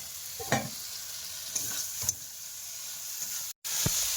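Leftover fish curry is warmed in a pan and stirred, giving a soft steady sizzle with a few scraping strokes of the spoon. Quiet and close, with no talk.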